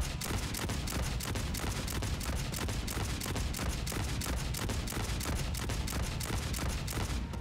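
Vajra grenade launcher in Aliens: Fireteam Elite firing full-auto, a dense, steady stream of rapid booming shots with no pauses, loud and continuous throughout.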